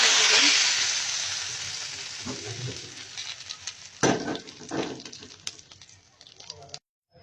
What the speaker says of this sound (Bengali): রসুনটাকে লাল লাল করে ভেজে নেব